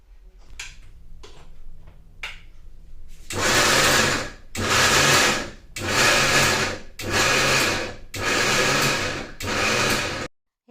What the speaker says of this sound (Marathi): वाटाणे दळताना ना मिक्सर ना अगदी असं चालू बंद करूनच दळायचं